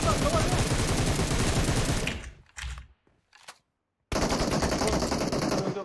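Automatic gunfire in the mobile game PUBG Mobile: a loud, rapid stream of shots lasts about two seconds, breaks off for a short gap with a few scattered sounds, then resumes just as loud and fast.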